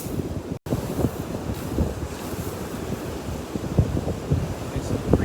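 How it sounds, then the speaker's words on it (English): Strong wind buffeting the microphone on a freezing seashore, gusty rumble with surf washing underneath and occasional louder blasts, continuous throughout. "You can tell by my hair that it's a really windy day right now"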